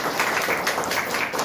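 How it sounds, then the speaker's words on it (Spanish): A church congregation at a Baptist service in Quito applauding together, a dense, steady wash of many hands clapping at close range, with no speech over it. "Nosotros debemos dar un aplauso para ellos"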